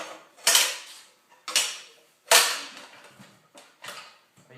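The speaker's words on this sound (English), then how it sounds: "Are you welding, Eric?" A MIG welder fires in short, sharp bursts of crackling arc, about five separate tacks with brief pauses between them, close and fairly loud.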